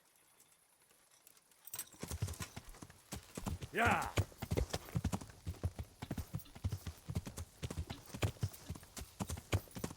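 A horse's hooves clip-clop in a steady, even rhythm in the video game Kingdom Come: Deliverance, close and prominent, with someone talking over the hoofbeats.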